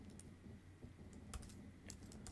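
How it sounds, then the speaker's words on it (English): Typing on a computer keyboard during coding, irregular quiet key clicks in short bursts over a steady low background hum, with no voices. "I'll type in sell"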